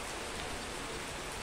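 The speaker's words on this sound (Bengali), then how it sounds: "বাইরে মুষলধারে বৃষ্টি হচ্ছে" Heavy rain pours down outside as a Kalbaishakhi storm begins, a dense, even roar of falling water that holds constant throughout the short stretch with no voices.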